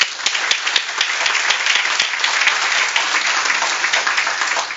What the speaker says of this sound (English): let me just give you a round of applause